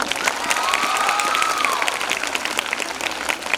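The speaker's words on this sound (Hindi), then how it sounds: "सर के लिए जोरदार तालियां" Loud, sustained clapping from an audience at a debate competition, honouring a guest speaker, a dense steady wash of hands lasting throughout, with a faint whistle-like tone rising and falling near the start.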